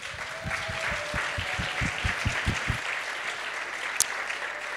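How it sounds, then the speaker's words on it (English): An audience at a festival keynote applauds in a steady, fairly soft wash of clapping, with a run of low rhythmic thumps early on that then fades into lighter clapping. "And I ask for an applause for both of them."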